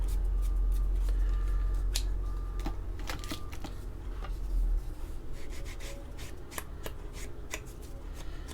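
Scissors snip along the perforated paper edge of a scrapbook tag, making a run of quick, crisp cuts and papery rustles close at hand over a low background hum.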